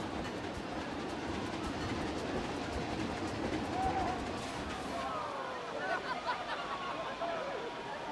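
A train runs in the Planet Coaster 2 video game, set in a Viking-themed park, with a continuous rolling rumble and rhythmic clickety-clack of wheels, and faint whistle-like tones toward the end.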